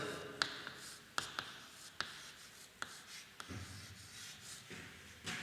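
Pen scratching across paper while a definition is written out by hand, a series of quick strokes and taps at close range, quiet and alone.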